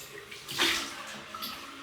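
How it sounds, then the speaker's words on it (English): Cold water splashing and running from a tap for a quick face rinse after a wet shave, a brief close splash burst over a steady trickle. "Cold water rinse."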